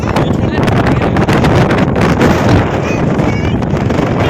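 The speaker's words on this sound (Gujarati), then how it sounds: "બહુ પવન આવે છે, નાઈસ લાગે છે" Strong wind roars and buffets continuously across the White Desert in Kutch, loud and close, with a faint voice barely audible beneath the rush.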